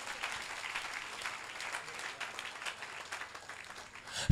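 Applause rising in a church service, a congregation clapping together for the word of God, steady and moderately loud across the whole stretch with a louder burst at the end.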